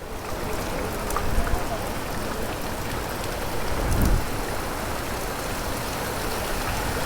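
Heavy rain pouring down in Lucknow during a storm, a dense continuous hiss of drops hitting the ground and nearby surfaces, with a low rumble swelling briefly near the end.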